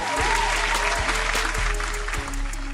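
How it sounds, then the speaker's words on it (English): A crowd at a live show claps steadily and loudly throughout, a dense continuous burst of applause with faint voices mixed in. "Yeah, that deserves applause."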